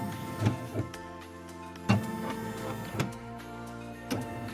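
A computerized embroidery machine runs a quick trace of a design's outline, moving its frame to check the limits; steady mechanical whirring with a few soft clunks, moderately quiet and without speech.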